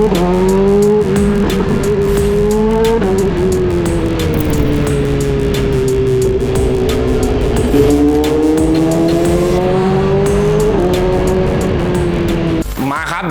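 A loud BMW S1000RR HP4 superbike with a WSBK racing exhaust revs and roars repeatedly, pitch climbing and dropping, with a sharp crackle near the end, no talking.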